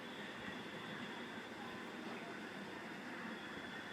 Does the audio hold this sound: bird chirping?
no